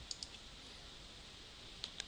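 Mouse clicks placing points along a curve in embroidery software: two faint, sharp clicks close together, a long quiet stretch, then two more, light and alone in a quiet room.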